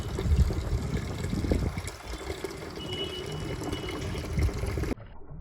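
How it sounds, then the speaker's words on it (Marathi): Water pours steadily into a tub for soaking chana dal, a continuous splashing rush with some louder gushes, before cutting off abruptly near the end. "हरभऱ्याची डाळ करण्यासाठी मी आता पाणी टबमध्ये टाकून घेणार आहे."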